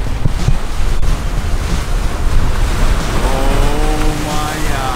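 Ocean surf breaks on rocks at a beach surf spot, a loud, continuous roar of churning water mixed with heavy wind buffeting the microphone.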